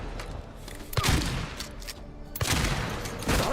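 Gunfire in the Silent Hill 2 video game, several sharp shots cracking out at irregular intervals over low background game noise, loud and close with no speech.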